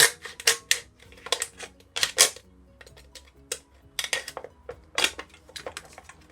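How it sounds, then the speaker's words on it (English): Sharp metallic clicks and crunches come in irregular bursts, close and loud, as a knife cuts the top off a thin aluminium can. "Taking your knife, you need to cut the top off."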